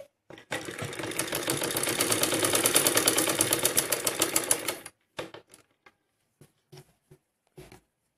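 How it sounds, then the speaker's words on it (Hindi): A sewing machine stitches all around the edges of a fancy back-design piece for a garment, running in one steady, fast, loud burst for about four seconds, followed by several short stop-start stitching bursts. "पलट के इसे बिल्कुल अंदर की तरफ कर देंगे, चारों तरफ सिलाई लगाएंगे इस तरीके से"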